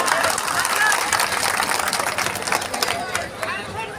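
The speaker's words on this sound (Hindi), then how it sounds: "आप खुद के लिए ताली बजाइएगा ना" Crowd applause from the audience at a party convention, dense sustained clapping across the whole stretch that thins slightly toward the end, with some voices mixed in.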